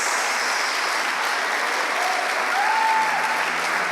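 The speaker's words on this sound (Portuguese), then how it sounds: "Você pode dar um grande aplauso a Jesus, porque Ele merece." Congregation applauding steadily in a church after a sermon line, a dense even wash of clapping throughout with a faint sung or spoken tone rising briefly near the end.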